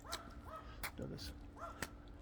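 A little dog gives several short, faint yips and barks in the distance, spaced irregularly across a quiet outdoor background.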